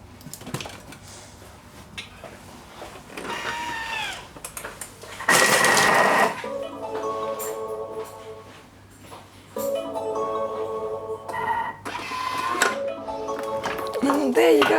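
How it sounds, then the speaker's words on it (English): A food processor chops broccoli, pepper and apple for a salad in short loud whirring bursts, with clattering and people talking between the runs. "the machine will literally in 5 seconds mix everything and chop it"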